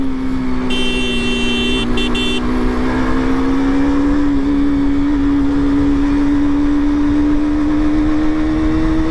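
A motorbike engine drones loudly up close, its steady hum rising slightly in pitch as it revs.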